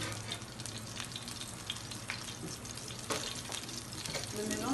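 Red and green peppers with onions fry in a mix of oil and butter, giving a steady, even sizzle that stays at one level throughout with faint clinks.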